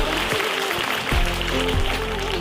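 An audience at a school student-of-the-year event applauds, a dense wash of clapping with a low hum beneath, steady and fairly loud throughout.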